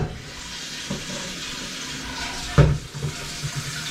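A kitchen tap runs steadily into a sink while brining a turkey, a continuous soft hiss of flowing water with a few brief bumps and splashes near the end.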